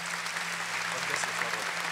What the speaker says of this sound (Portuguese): Esses irmãos merecem mais uma salva de palmas.